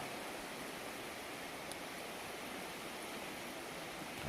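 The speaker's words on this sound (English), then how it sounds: "A nice creek over there." A creek flows through the woods at night, a steady even rush of water at moderate distance with no other sounds over it.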